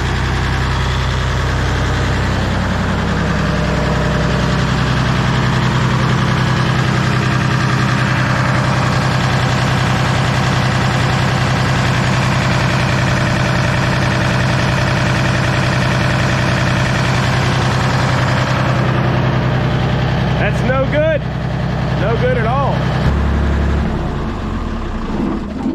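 A Bomag BW213 compactor's diesel engine idles steadily while warming up, a loud close low rumble with a constant vibrating drone, followed by a few brief clanks and squeaks near the end.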